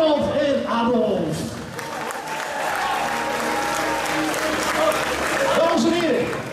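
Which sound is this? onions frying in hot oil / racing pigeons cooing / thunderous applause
thunderous applause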